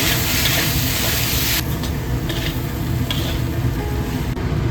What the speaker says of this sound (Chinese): 接着加入600克马铃薯丁，继续翻炒均匀